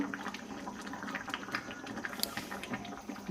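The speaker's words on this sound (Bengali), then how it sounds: "মাংস এখন টকবক টকবক করে ফুটছে।" Chicken curry boiling in a pot in a home kitchen, with a steady close bubbling and popping texture and faint clinks, continuous throughout.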